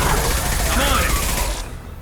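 A burst of gunfire from the video game Mass Effect Legendary Edition, loud and dense for over a second, then cutting off abruptly into a low tail.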